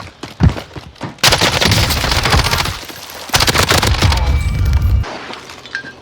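Video game gunfire from enemies, with a few sharp separate shots followed by long bursts of rapid automatic fire, loud and close, broken by short pauses.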